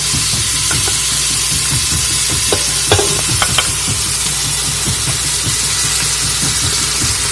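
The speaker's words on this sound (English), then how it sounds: "Just putting everything in there, and I'm gonna saute that." Mini sweet peppers, garlic cloves, scallion and thyme sauté in a pan with a steady close sizzle and hiss, broken by a few sharp scrapes and clicks of stirring, with no talking.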